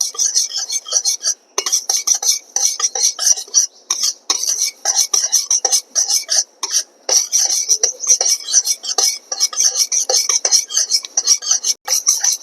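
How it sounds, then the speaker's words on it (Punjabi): Nigella seeds (kalonji) roast in a pan, giving a dense, steady crackle of fine ticks and scrapes that carries on nonstop at close range. "ਕਲੌਂਜੀ ਭੁੰਨਣ ਲੱਗ ਪਈ ਐ ਚਿੜ ਚਿੜ ਕਰਨ ਲੱਗ ਪਈ"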